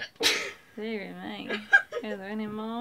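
A single sharp sneeze bursts out near the start, then a person talks over steady background for the rest of the short stretch.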